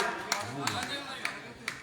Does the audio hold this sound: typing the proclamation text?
no